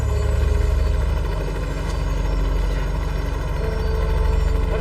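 A helicopter drones steadily and loudly at close range, its rotor chop pulsing in a continuous heavy beating rumble with no voices over it.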